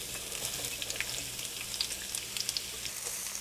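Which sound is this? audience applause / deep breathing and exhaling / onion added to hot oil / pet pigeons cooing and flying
onion added to hot oil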